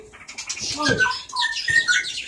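Caged songbirds, a magpie robin and a Bali myna, give bright close chirps, whistles and squawky calls in quick bursts, with faint voices in the background.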